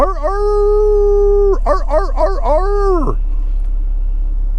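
A puppy howls loudly up close in one long sustained note, then breaks into several wavering yips before it trails off, over a steady low hum.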